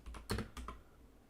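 Keys on a computer keyboard clatter in a short, quick burst of a few close, crisp taps, then trail off into quiet, with no voices.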